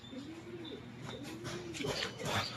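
Racing pigeons cooing softly at a loft, a steady low warbling coo repeating throughout amid faint chirps and background noise.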